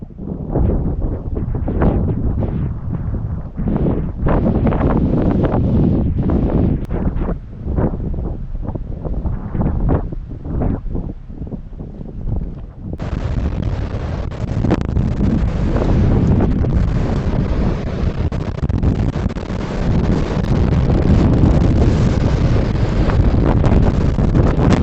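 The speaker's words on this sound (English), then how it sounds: "a powerful windstorm tore through the region. Fierce gusts bent trees, shook the cabin walls" Strong windstorm gusts roar and buffet the microphone outdoors near a cabin among trees, a loud, continuous rushing that swells and surges without pause.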